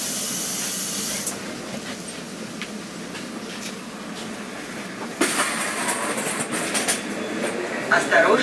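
Moscow Metro train at Vykhino station, a steady broadband rumble of the carriages with a sharp burst of pneumatic hiss partway through, continuing loud and close to the end.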